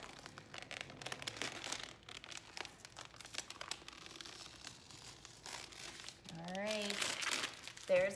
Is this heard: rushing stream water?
no